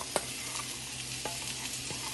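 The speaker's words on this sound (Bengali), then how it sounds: "মিশ্রণটা আমি এখানে ভাজা আলুর সাথে দিয়ে ভালো করে কষিয়ে নেব।" Spice paste being sautéed with fried potatoes in a pan for Bengali dhokar dalna, a steady low sizzle with a few sharp spoon-scrape stirring clicks, close and alone.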